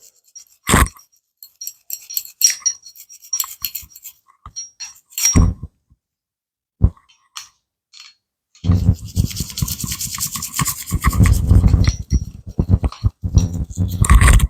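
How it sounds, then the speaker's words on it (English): A brush scrubs Ruger LC9 pistol parts during cleaning: short, sharp scratchy bursts near the start with gaps between, then a dense, continuous, loud scrubbing over the final third. "you want to make sure that the brush is getting everywhere that you sprayed at."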